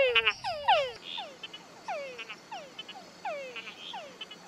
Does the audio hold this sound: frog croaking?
yes